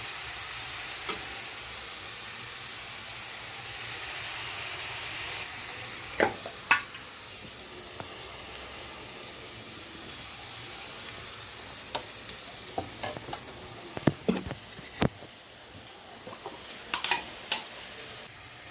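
Continuous soft sizzle of ginger garlic paste frying in a pan, with scattered clinks and scrapes of stirring, louder toward the end.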